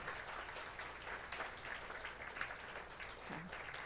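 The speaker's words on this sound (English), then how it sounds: "Let's applaud for them." Diners at the 2026 NVMC annual dinner applaud Riley Ota and her family, a fairly faint, continuous patter of many people clapping throughout, heard from a distance.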